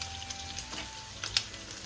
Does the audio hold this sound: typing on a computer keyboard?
no